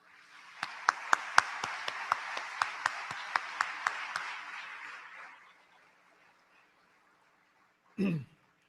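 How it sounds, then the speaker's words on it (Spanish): An audience at a Venezuelan industry association event applauds with steady, dense clapping and a few sharp, evenly spaced claps standing out. The applause fades after about five seconds, then a brief low thump follows. "Pido para todos un muy merecido aplauso."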